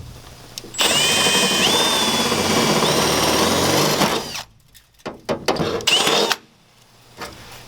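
Power drill deburring holes in a metal wall panel, a loud sustained grinding whine with squealing metal tones for about three seconds, followed by several shorter bursts and clicks.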